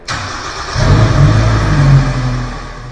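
The engine of a Ligchine Screedsaver Boss 240 laser screed starts by remote: a short crank, then the motor catches, surges loudly close by, and settles into a steady running drone.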